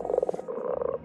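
In the video game Pile Up, a frog croaks in a quick rhythmic run of throaty pulses lasting about a second, with no voices.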